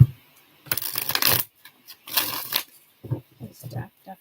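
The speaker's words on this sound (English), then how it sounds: "This deck definitely wants to be shuffled that way." A deck of tarot cards is shuffled in two short papery bursts of riffling and sliding, close up, followed by a few soft handling sounds.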